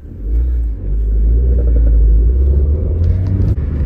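A 2003 Mazda Protege5 engine running just after starting, a loud steady low rumble that swells up early and holds, then dips briefly near the end.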